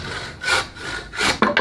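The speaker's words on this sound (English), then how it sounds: "saw the end off of it" A handsaw cuts the end off a piece of wood held in a vise, giving a few short rasping strokes, close and clear, with no talking.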